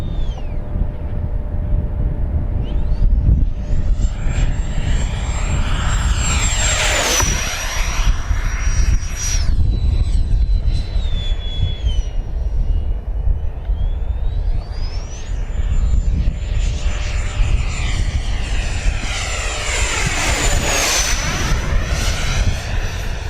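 A JP Hobby 105mm all-metal EDF radio-controlled jet flies past with a loud, steady ducted-fan roar and a high whine. The pitch sweeps up and down twice as the jet passes close overhead, and no one talks over it.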